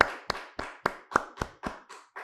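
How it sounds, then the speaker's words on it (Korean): Congregation at the close of a church service claps in unison, nine sharp evenly spaced beats, loud and close with no talking. "우리 하나님께 영광 박수를 올립니다"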